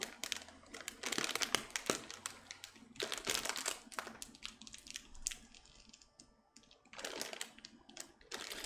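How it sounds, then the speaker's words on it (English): A zippered plastic bag of candy with a broken zipper being handled and crinkled, bursts of close, loud rustling and crinkling in uneven clusters with short pauses between them. "I got a bag of candy and they messed up the zipper"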